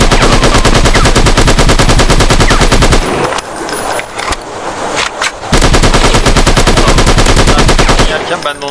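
Rapid automatic gunfire from the Turkish-made video game The Last One, loud sustained bursts that break off briefly in the middle before firing resumes.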